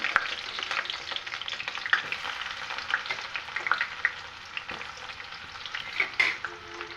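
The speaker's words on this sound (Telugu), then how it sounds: "ఆవాలు జీలకర్ర వేగిన తర్వాత మనం ముందుగా కట్ చేసి పెట్టుకున్న ఆనియన్స్ వేసుకున్నాము" Onions sizzle in hot oil after mustard seeds and cumin have crackled, a steady close fry with scattered pops and the scrape of stirring.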